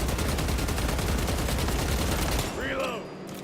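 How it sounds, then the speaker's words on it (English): Rapid-fire bursts from a close-range thermal weapon in a video game, a dense continuous stream of loud shots for over two seconds that stops abruptly, followed by brief sci-fi sweeping tones. "Close range thermal weapon."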